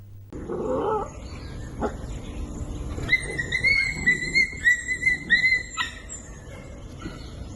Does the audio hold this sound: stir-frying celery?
no